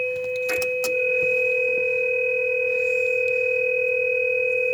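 A Realistic TRC-448 CB radio emits a loud, steady two-tone test signal that holds unbroken throughout, with a few brief clicks near the start.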